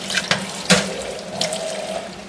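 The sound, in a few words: water poured over upturned dish in kitchen sink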